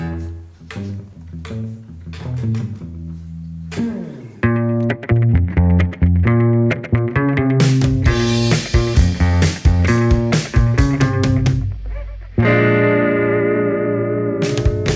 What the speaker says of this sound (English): Very often in the show we're gonna have some guitar riffs like these.